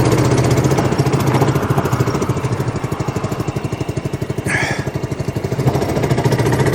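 A 1998 Honda Helix scooter's small engine runs steadily and close by, a loud continuous buzzing drone with a slight dip and recovery in revs partway through.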